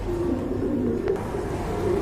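A pair of pigeons kept for sale coos in low, soft, rolling notes that repeat steadily over a constant background murmur.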